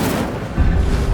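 Incendio fire spell cast in Hogwarts Legacy: a single loud, booming burst of flame erupts partway through and rumbles on over the game's ongoing background sound.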